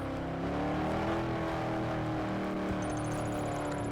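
A car in the video game Taxi Boss drives steadily with a continuous engine hum and faint revving, holding an even level throughout with no voices.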